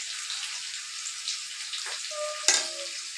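Vegetables, including sweet pumpkin, fry in a pan with a steady crackling sizzle, a faint scrape of stirring and a sharp clatter near the end.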